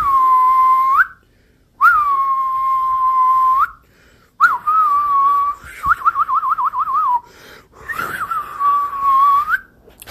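A person whistles loudly and up close in long sustained tones with short pauses, including a quick warbling run of rapid repeated notes.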